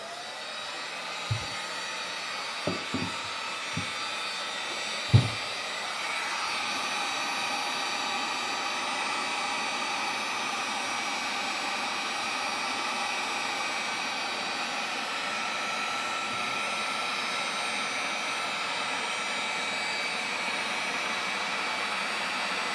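A heat gun blows a loud, steady roaring hiss onto a glued part of a 2011–2014 Kawasaki ZX10R to soften the adhesive, with a few faint knocks early on and the roar continuing throughout.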